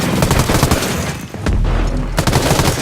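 Dense, rapid gunfire from the tactical shooter Ghost Recon Breakpoint, with overlapping bursts and a deep boom partway through, loud and continuous over the whole stretch.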